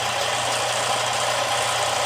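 A Central Machinery 4x36 belt sander with a 6-inch sanding disc running steadily, a constant broadband whir with a low motor hum beneath, close and fairly loud without pauses.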